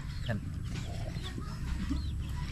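Chicken clucks sound close at a rural spot where fighting roosters are kept, with short broken calls scattered over steady low rumble and background noise, with no voice on top.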